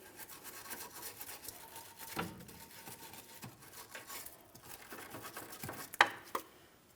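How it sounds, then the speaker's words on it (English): A wire brush scrubs and scrapes the subframe of a 2007-2014 Ford Edge in irregular bursts, with quiet rasping strokes and a few sharper scratches near the end, and no talking. "For this, I'm just using a wire brush."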